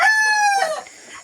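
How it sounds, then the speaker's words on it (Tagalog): A native rooster crowing once, close and loud, a single drawn-out harmonic call that fades at the end. "sa ating mga alagang native na manok"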